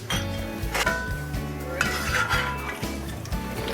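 Garlic sizzling in a frying pan as it is lifted out, with repeated metallic clinks and scrapes of a utensil against the pan over a steady fry.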